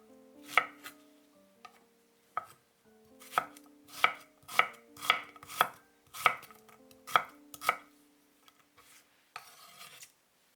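Three garlic cloves being chopped with a knife on a board for a chicken udon stir-fry: a series of crisp, close knife strikes in an irregular burst, with brief pauses between, otherwise quiet with no speech.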